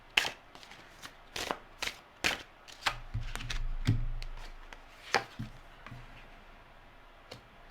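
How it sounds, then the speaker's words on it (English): Rider tarot cards being shuffled and drawn, heard as a series of sharp, crisp card snaps and flicks spaced irregularly, with a brief soft riffling rustle in the middle, close and fairly quiet with no talking. "we're going to pull some rider cards now, because now I'm drawn to this deck"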